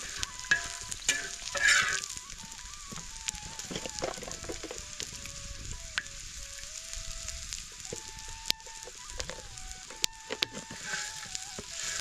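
Chillies and garlic are stirred and roasted in oil for a village-style thecha, giving a soft continuous sizzle with intermittent scraping stirs and clinks of a utensil against the pan, steady and close, no talk.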